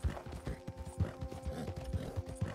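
Horse hooves in the Western video game Red Dead Online, a quiet uneven clip-clop of steps with a faint mechanical hum running underneath.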